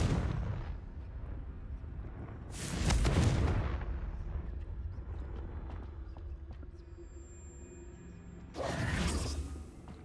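Two Confringo fire spells blast in Hogwarts Legacy, each a loud booming burst with a roaring tail, spaced apart with rumbling, creaking movement and clatter in between.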